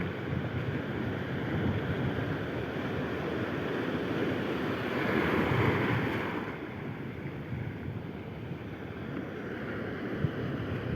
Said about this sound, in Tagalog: Inabot na naman ang malaking alon.